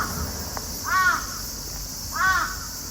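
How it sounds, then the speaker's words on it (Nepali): A crow caws twice outdoors, two clear, separate calls spaced over a second apart against a steady background hiss. "काग दाजै कराउनु भयो"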